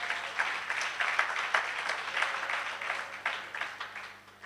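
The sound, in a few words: congregation applauding to acclaim the Lord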